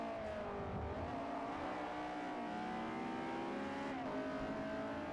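A car engine in Forza Motorsport 4 revs steadily upward into VTEC, its tone climbing in pitch, then dipping briefly as the revs are caught and rising again. The sound is continuous and sits close, with no voices.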